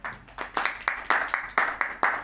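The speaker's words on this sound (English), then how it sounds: "Another round of applause for Coach" An audience applauds a coach in a rhythmic wave of claps, steady bursts pulsing through the room at close range with no voices over them.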